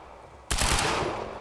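A sudden burst of submachine gun fire from the game Quantum Break erupts after brief quiet, a dense rapid volley of loud shots that runs on for about a second with no talk over it.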